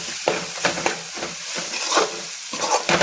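Food frying in a pan over the stove, a steady sizzle broken by repeated scraping stir strokes, close and fairly loud with no voices.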